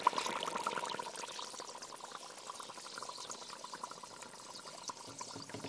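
Soft continuous bubbling and fizzing of dry ice in water, faint and steady throughout, with no voices.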